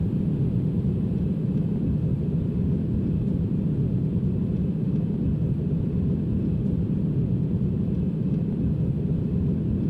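Airbus A321 engines in the X-Plane 11 flight simulator, a steady, even low roar and hiss holding constant from start to finish with no breaks.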